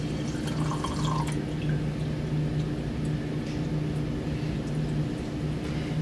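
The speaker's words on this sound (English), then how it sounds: "So I use a graduated cylinder that's much more accurate. So pour that into my beaker." Liquid is poured from a graduated cylinder into a beaker during a transesterification lab demonstration. It gives a steady, fairly loud trickle over a constant background hum, with no speech.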